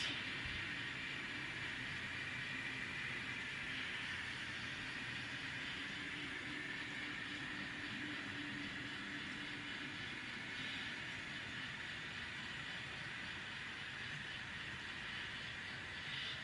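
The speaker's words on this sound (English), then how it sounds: "trains coming up over the pass" A steady mechanical rumble and hum of a model train running on a layout, even in level throughout, with no talking.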